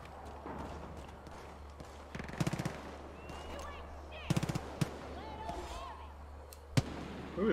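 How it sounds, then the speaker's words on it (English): Bursts of automatic gunfire from the video game Far Cry 5, several rapid volleys at a moderate distance, spread across the scene with one sharp louder shot near the end, over steady background game ambience with faint talk. "Who are they shooting at?"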